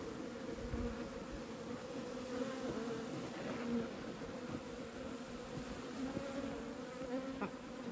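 A steady, low drone of many bees buzzing together, continuous and fairly close, with no talking.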